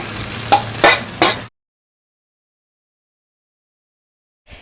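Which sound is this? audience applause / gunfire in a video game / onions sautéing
onions sautéing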